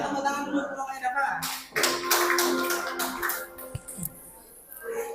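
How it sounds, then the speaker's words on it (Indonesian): A classroom of students claps together in a burst of applause lasting a couple of seconds, with speech before and light taps after. "silakan kasih tepuk tangan dulu kalau yang dapat"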